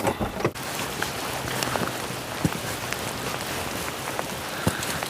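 Steady rain patters on a nearby surface, heard from inside a covered bridge, with occasional louder drips and knocks standing out against the continuous hiss.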